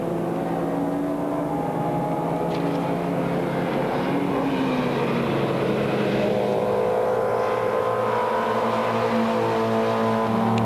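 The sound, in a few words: Schnitzer BMW race car at the Spa 24 hours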